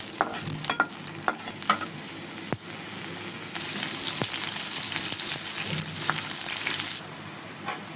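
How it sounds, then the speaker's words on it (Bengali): Onion and chili frying in oil in a pan, for a pabda fish dish, make a continuous crackling sizzle close by, broken by repeated scraping and clinking stirs of a spoon against the pan. "তেল আর পেঁয়াজ আর মরিচ এখন এটা ভালোভাবে একটু হালকা ভেজে নিতে হবে"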